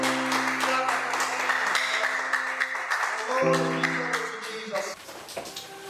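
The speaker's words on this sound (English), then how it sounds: "Please clap for them, clap for them, clap for them" A church congregation claps over sustained keyboard or organ tones, a busy run of claps that thins out near the end.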